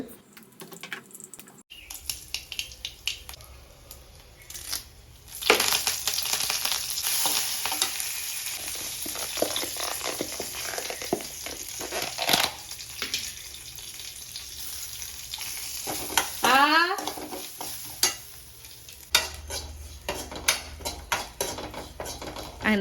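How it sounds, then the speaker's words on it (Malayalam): Grated coconut frying in a pan with crackling mustard seeds, chillies and curry leaves, with steady sizzling and repeated stirring scrapes close up, a brief quiet start, then loud continuous frying noise. "കടുക് പൊട്ടിച്ച് മുളകും കടുവേപ്പിലേക്ക് ഇട്ടിട്ട് തേങ്ങയും കൂടി ഇട്ട് നല്ലോണം വറുത്തെടുത്തു"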